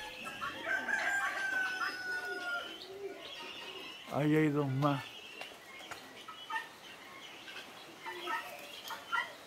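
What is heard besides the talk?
turkey and fowl calling on a farm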